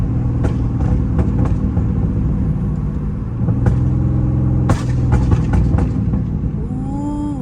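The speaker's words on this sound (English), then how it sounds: "we got the flame tune on. Y'all hear that? Burble tune going crazy." A Dodge Charger Scat Pack with a flame burble tune rumbles at idle, its exhaust crackling and popping in scattered sharp bursts up close, with a couple of louder pops near the fifth second.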